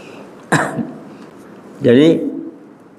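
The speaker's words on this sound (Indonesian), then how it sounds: "saya lagi agak setengah batuk" A sharp cough bursts out, followed after a pause by a harsher, voiced throat-clearing cough, both close and loud.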